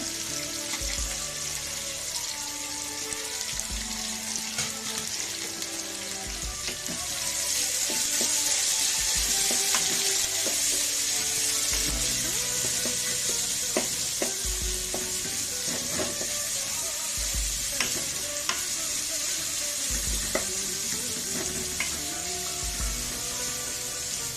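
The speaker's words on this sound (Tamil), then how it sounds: "நம்ம வந்து இப்போ இதுக்கு கூட வந்து வெங்காயத்தை சேர்த்துக்கலாம்." Onions for a home-style chicken curry fry in hot oil with a loud, continuous sizzle that swells partway through, while a utensil scrapes and taps the pan at regular intervals. No one talks.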